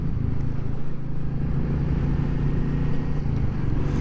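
A motorcycle engine on the move with a quick heel upshift, a steady low drone and rumble with wind noise that stays constant and close, without a distinct rev spike, and no one speaking.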